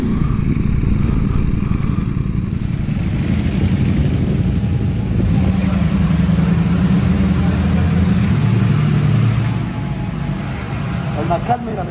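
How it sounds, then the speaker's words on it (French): A motorcycle engine runs on a race circuit as a loud, continuous rumbling drone, with a rider's voice speaking over it throughout. "Quel privilège vraiment de conduire une moto comme ça,"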